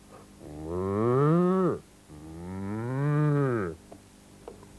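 A person imitates a cow, giving two long, loud, close moos in a row, each swelling and then dropping off, with a short gap between them.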